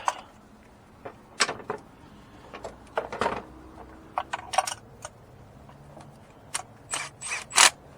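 A hand ratchet snugs spark plugs on a 9th-generation Mitsubishi Lancer, giving short bursts of quick, close metallic clicks separated by brief pauses.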